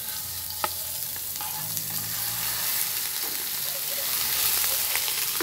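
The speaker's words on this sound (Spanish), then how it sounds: "se va a freír ya la carne molida" Ground beef fries in a pan with a bright, steady sizzle and hiss, punctuated by a few sharp utensil taps, all fairly close and without talk.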